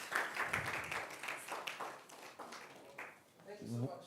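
A keynote audience at the Thrive100 Passion to Profit event claps in scattered, steady bursts while a speaker's voice talks over the applause near the microphone.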